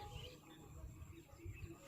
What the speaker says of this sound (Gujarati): આઈન પાછો પક્ષીઓનો અવાજ ચાલુ થઈ ગયો છે બહાર